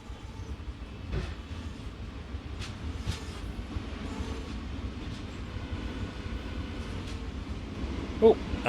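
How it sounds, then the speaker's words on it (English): A train rolls past in the Train Sim World simulator on the Northeast Corridor, a steady low rumble of wheels and cars at moderate distance, fairly quiet, with a brief louder knock near the end. "Oh, and we saw a train."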